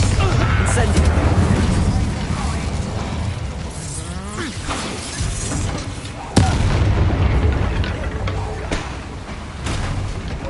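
Bombarda and Incendio spell blasts in the video game Hogwarts Legacy, dense booming explosions and crackling impacts with one sharp bang partway through, alongside combat noise and voices.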